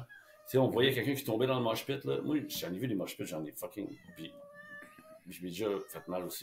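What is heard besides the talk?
cat meowing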